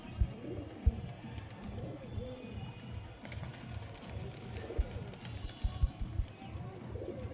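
Giribaz pigeons cooing, a male and a female among them, in soft, low repeated coos with a few sharper taps and rustles, fairly quiet and close by.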